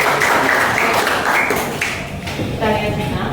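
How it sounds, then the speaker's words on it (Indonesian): A short round of clapping for Regina from a class audience during a chemistry teaching session, brief and mixed under a teacher's voice. "tepuk tangan dulu buat Regina."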